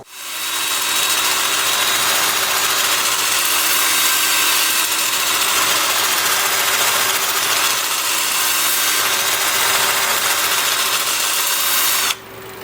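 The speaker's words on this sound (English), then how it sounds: "I'm starting at 120 grit. I have the lathe spinning in reverse at 430 RPM." Turned wood is sanded with 120-grit paper on a lathe spinning in reverse at 430 RPM, producing a steady loud hiss with a continuous motor whine that runs unbroken until a sudden drop near the end.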